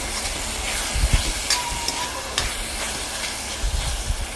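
Ridge gourd pieces fry in a pan with a steady, soft sizzling hiss, broken by a few faint clicks and stirring scrapes at close range, with no talking.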